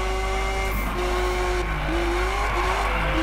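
A car slides around in Need for Speed Payback, its engine holding a steady drone under wavering tire squeal as it skids back and forth, with no talking.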